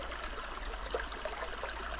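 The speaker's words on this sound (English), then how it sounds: "the sound of running water" Steady running water from an outdoor stream, a soft continuous trickling wash that stays faint and even throughout, with no voices over it.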